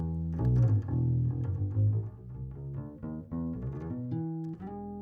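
A bass guitar plays a short melodic line through a small bass amp, warm and round, with notes sliding and plucked at a moderate pace.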